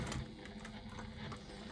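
A sewing machine stitches piping onto the exterior panels of a sewing project, giving a fast, even mechanical whir that runs the whole time, faint and fairly close.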